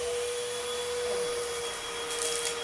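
A household vacuum cleaner runs steadily and loudly throughout, with a constant motor drone and a faint crackle of larger particles being sucked up near the end.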